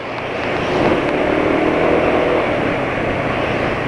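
A motorcycle engine on fresh Ravenol TSi oil keeps its revs hanging after the throttle is let off: a close, steady droning hum that holds for several seconds without dropping, with no talking.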